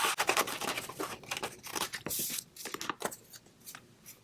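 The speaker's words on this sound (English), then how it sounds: "I'm going to actually fussy cut this out too" Scissors snip closely around a printed paper piece for a pumpkin mini card, giving quick, irregular crisp cuts with light paper rustling between them.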